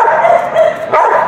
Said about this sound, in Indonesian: dia gonggong bisa kita latih berhitung